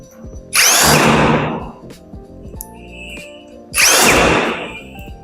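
Power drill driving bolts into wardrobe corner brackets during flat-pack assembly, two loud whirring bursts about three seconds apart with a quiet pause between.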